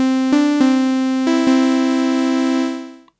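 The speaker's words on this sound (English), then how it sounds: "So I'll first start with the oscillator" Ableton Analog software synth with its first oscillator switched to a sine wave, playing a sustained harmonic tone with a few note retriggers and a long fade at the end, heard alone.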